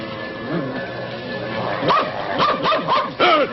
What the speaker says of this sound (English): Oh, you horrible dog!